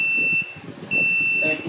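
A water refilling station's auto-flush timer gives two sustained electronic beeps, each about half a second or longer, separated by a short gap, sounding close and clear over a low hum.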